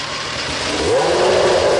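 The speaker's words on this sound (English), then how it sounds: "After the 3-litre V10 finally starts," A 3-litre V10 racing engine fires up, its mid-range roar rising steadily over under two seconds into a loud, sustained rumble with a brief upward sweep in pitch, no voices present.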